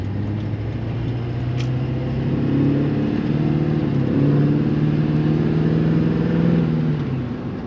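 A Duramax LB7 diesel truck engine at wide open throttle on a bridge, a loud sustained roar whose pitch climbs and steps through gear changes, heard from inside the truck.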